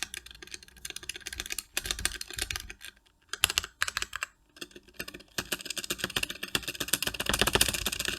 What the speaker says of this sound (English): I'm going to summarize how I went from making my keyboard sound like this